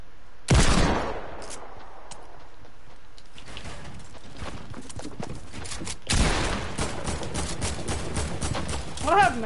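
Gunfire in Fortnite, with loud bursts of rapid shots near the start and again around the middle, and scattered single cracks between them over game ambience.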